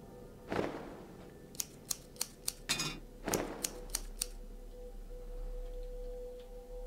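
Scissors snip through a dress in the Cat Lady video game: a few sharp whooshing cuts followed by quick series of crisp clicks, faint and up close.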